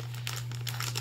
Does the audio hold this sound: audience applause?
no